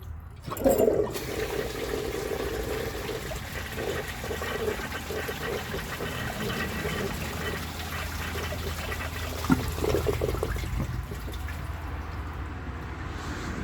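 A 1994 Eljer toilet flushing, water gushing loudly into the bowl with a sustained rushing rinse and gurgle that continues for several seconds before tapering toward refill.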